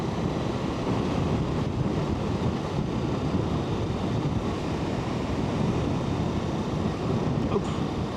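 Steady, heavy wind roar buffets the microphone of a rider on a Ducati Multistrada V4 Rally along a coastal road in Halland, a constant broadband rush with no letup.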